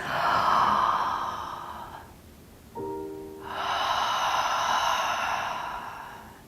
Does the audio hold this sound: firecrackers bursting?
no